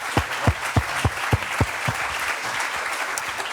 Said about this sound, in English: Could I ask a round of applause for the panelists, please?